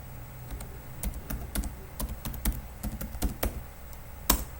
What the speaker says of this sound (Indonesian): Kemudian kita masukkan password yang baru. Kemudian kita ketik ulang passwordnya yang baru.